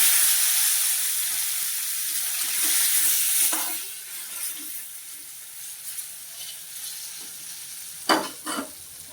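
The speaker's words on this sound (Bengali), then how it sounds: "পটলগুলো ভাজা হয়ে গেছে" Pointed gourd pieces salted and dusted with turmeric fry in a pan, a soft steady sizzle fading over time, with a few scrapes and a couple of sharp knocks of a utensil near the end.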